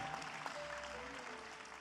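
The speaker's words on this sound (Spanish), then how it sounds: "Demos un aplauso de honra y gloria a nuestro Dios Todopoderoso" Audience applause at a church interview with a pastor, a steady wash of many hands clapping together, fairly distant and even in level across the whole stretch.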